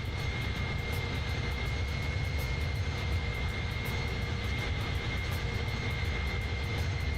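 Steady, loud drone of an iniBuilds Airbus A310 jet engine in Microsoft Flight Simulator, in Swissair livery departing Geneva, with a continuous whine and roar that holds constant and has no talk over it.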